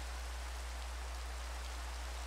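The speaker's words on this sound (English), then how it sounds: "it looks like I don't have to water my crops today because it's raining" Steady rain falling in Minecraft, an even hiss of raindrops with no variation and a constant low hum underneath, no voices.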